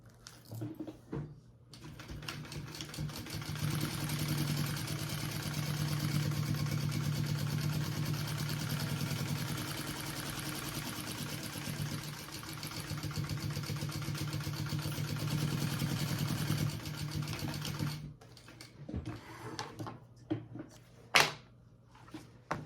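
A sewing machine bastes around a fabric pocket to attach it to a main panel, running in a continuous whirring hum for about sixteen seconds, then stopping, followed by a few faint handling clicks and taps.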